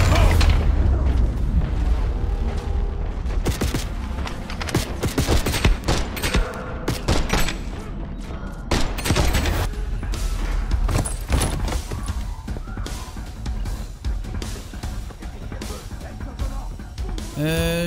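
Call of Duty Black Ops 6 firefight: dense bursts of automatic gunfire and heavy booming explosions pile up continuously at close range, with players talking intermittently underneath.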